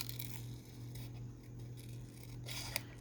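Scissors snip quietly through a vintage book page to cut out a small squirrel image, with a few faint cuts at the start and again near the end over a low steady hum.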